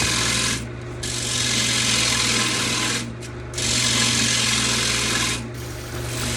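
A punky sweetgum bowl lid being thinned on a lathe, with a loud, steady rasping cut that drops out briefly at three points as the tool is lifted and reapplied, with no voices.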